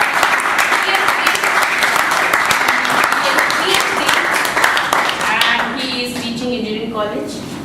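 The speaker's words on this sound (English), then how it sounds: "I would like everyone to give a round of applause for Dr. Bijkar." An audience claps for Dr. Bijkar at a training seminar, loud sustained applause with crisp individual claps that gradually thins out as a voice begins speaking over it.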